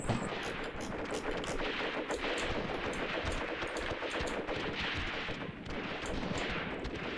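Machine gun fire in the video game Graviteam Tactics rattles almost continuously, with dense overlapping bursts of gunshots and some heavier distant thuds that form a constant battlefield din.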